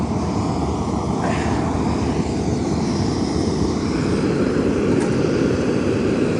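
An MSR Pocket Rocket 2 camping stove running isobutane blend fuel roars at full flame, a steady loud broadband rush that holds without a break from start to finish.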